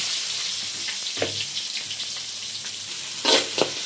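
Onions fry in hot oil with cumin and curry leaves for a tomato gojju, a steady bright sizzle broken by a few sharper spitting crackles and light stirring scrapes, close and with no talking.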